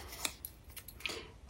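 Scissors snipping paper while making a gift box, a few sharp close clicks and short cutting sounds over a faint background hum.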